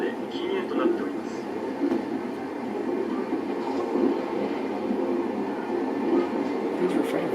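A train runs steadily, with a continuous rumble and rolling wheel noise, from a Kamen Rider Kuuga episode. People talk over it throughout, and an onboard announcement is heard.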